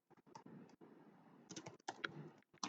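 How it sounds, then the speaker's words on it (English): Quiet, close keyboard typing, with irregular runs of key taps and brief pauses between them and no voices. "probably typing the amount in words"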